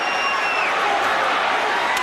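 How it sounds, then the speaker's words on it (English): Boxing arena crowd roaring and cheering at the end of a fight between Sugar Ray Leonard and Thomas Hearns, a broad steady wash of distant voices with faint whistles. "The crowd is on its feet."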